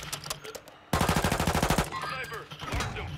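Gunfire in the Warzone video game erupts as a rapid burst of about a dozen sharp shots in a steady rhythm, loud against quieter game ambience and fading into background rumble.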